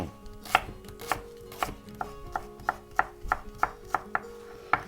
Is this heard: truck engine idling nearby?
no